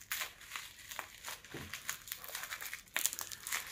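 A parcel from China holding a vanilla-scented candle is unwrapped by hand, giving close, crisp crinkling and rustling of packaging in short irregular bursts.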